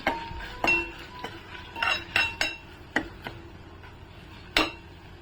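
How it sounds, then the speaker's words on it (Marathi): A utensil scrapes and clinks against a pan while turmeric and red chili powder are stirred, giving a run of sharp, irregular metallic taps at close range with no talking. "हळद आणि लाल तिखट छान असा आहे ना हे मसाले आपण परतून घेऊया"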